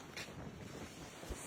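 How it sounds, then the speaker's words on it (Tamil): Strong gusting wind before a storm in the United States roars across the microphone as a continuous loud rush with brief buffeting bursts. "செம்ம காத்துங்க."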